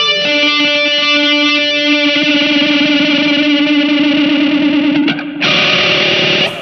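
An electric guitar through a Pocket Master multi-effects unit plays sustained, shimmering notes with a swirling chorus effect and some grit, loud and close, changing tone near the end.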